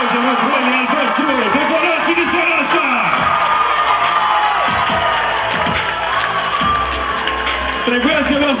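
Students at a Romanian high school freshman ball cheer, whoop and shout in a loud, packed hall, with excited voices rising over scattered clapping throughout.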